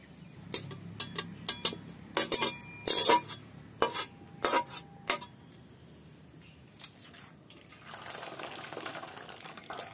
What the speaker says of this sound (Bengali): এবার আমি ডুমুরটা ঢেলে দিচ্ছি